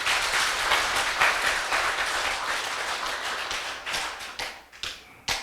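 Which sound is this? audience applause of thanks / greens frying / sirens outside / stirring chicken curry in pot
audience applause of thanks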